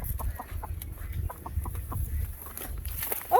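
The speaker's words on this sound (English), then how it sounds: "And there's Henry, my lovely rooster." Backyard chickens and a rooster clucking nearby in spring, a run of short repeated clucks over low rustling, with a louder squawk at the end.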